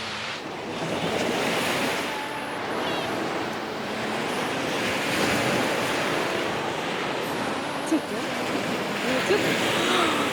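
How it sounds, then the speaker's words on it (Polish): Sea waves breaking steadily on an empty off-season beach in Poland, a continuous loud surf wash with wind buffeting the microphone and faint voices in the background. "I leci fala."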